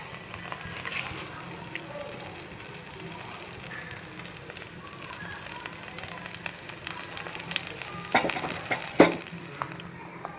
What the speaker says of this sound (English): pour some 1/2 spoon of oil and transfer this grinded paste